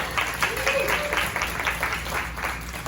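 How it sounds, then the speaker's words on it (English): Audience applause at a community event, steady dense clapping throughout with some voices and a brief whoop-like tone mixed in. "So give them a round of applause."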